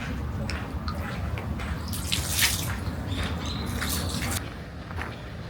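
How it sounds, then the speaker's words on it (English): Hands washed at a purification water basin in the Atsuta Shrine in Nagoya, Japan, with a steady trickle and splashing of water running throughout, some drips and light splashes on top, and faint ambient noise behind. "Visitors wash their hands here, left hand first, then right."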